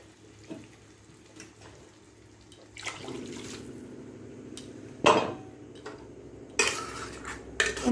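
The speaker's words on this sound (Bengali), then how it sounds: "আর একটু জল দেব।" Water poured into a curry in a pan, a rushing pour over faint background hiss, with clanks of utensils against the pan.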